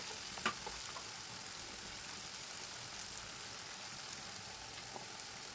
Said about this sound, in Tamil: உப்பு சேர்த்துன உடனே தக்காளி வந்து சீக்கிரமாக வதங்கி வர்றது நம்மளுக்கு தெரியும்.